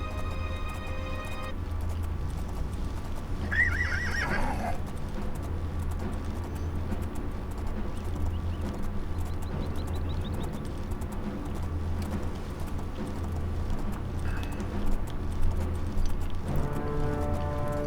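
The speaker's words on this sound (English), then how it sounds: "Nice horse." Horse hooves clip-clop steadily in The Elder Scrolls IV: Oblivion, heard under continuous game ambience and music with a few brief higher calls.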